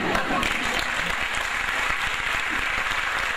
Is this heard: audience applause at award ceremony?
yes